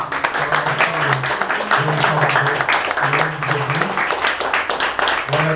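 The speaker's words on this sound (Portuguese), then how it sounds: "Queria pedir um aplauso bem grande." A church congregation applauds steadily with dense, continuous clapping, and a voice sings or hums beneath it.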